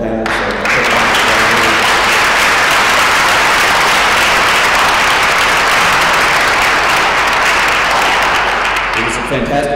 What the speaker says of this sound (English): can we please give all four of our panelists a quick round of applause?